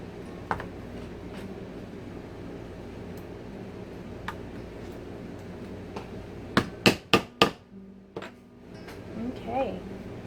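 A rivet is set on a cosplay pauldron with a hammer, landing as three or four sharp close taps in quick succession after a stretch of quiet room tone and faint ticks.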